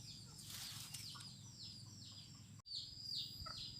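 Backyard village chickens kept on a small Thai farm cluck and chirp repeatedly at moderate distance, with bursts of wing flapping in a quiet setting.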